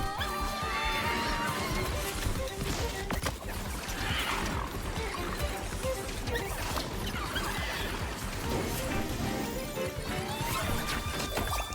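A horse neighs in the video game Temtem Swarm, with repeated whinnies rising over busy, dense game sounds of crashes and thuds throughout.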